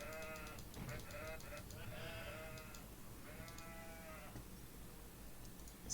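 Sheep in the Age of Empires IV strategy game bleat in several clear, wavering calls, some overlapping, set against a steady low background hum with no talking.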